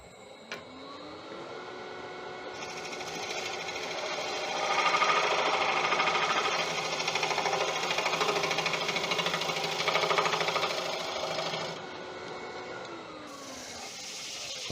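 A wood lathe spins a cherry bowl with a steady motor hum while a tool shaves surface CA glue off, the cutting hiss swelling in the middle and then easing as the tool lifts away.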